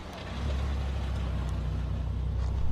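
A Bentley GT Speed Convertible accelerates hard, a loud, deep engine roar that holds steady and close for a couple of seconds.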